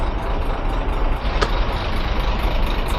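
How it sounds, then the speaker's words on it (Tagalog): Trucks at a busy Philippine port terminal idle and rumble in a dense, steady low roar, with a brief sharp hiss of an air brake partway through. "Daming truck dito mga kalaboy"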